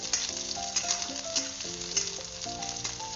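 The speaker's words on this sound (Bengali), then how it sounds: "এগুলো সব এর সঙ্গে দিয়ে দিলাম। এবারে এটাকে একটু ফ্রাই হতে দেব।" Chopped onion and green chili fry in a pan, a steady close sizzle with light stirring, while music plays alongside and no one speaks.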